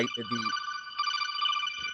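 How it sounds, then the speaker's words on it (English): A phone ringtone plays loudly and steadily, a bright warbling electronic tone that starts under a man's brief speech and continues alone. "Now that is an epic ringtone."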